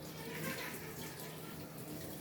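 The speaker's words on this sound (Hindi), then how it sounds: "तो इसमें से मैं थोड़ा सा पालक निकालूंगी और इसको धो दूँगी।" Tap water running steadily over spinach in a large kitchen strainer, a soft continuous splashing rush at low volume.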